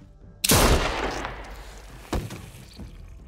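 Gunfire in The Walking Dead video game: a sudden loud blast with a long ringing tail, then a second sharper shot about two seconds later, followed by fainter trailing noise.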